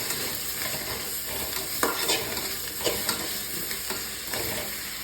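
Spinach greens being sautéed in a pan for a tomato and pepper greens dish, with a steady close sizzle and repeated scraping stirs of a spoon against the pan, no voices.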